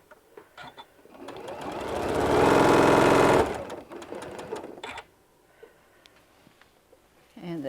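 Sewing machine stitching the seam of a large bean bag, a dense mechanical whir that swells loud for a couple of seconds then gives way to shorter bursts and quieter handling sounds.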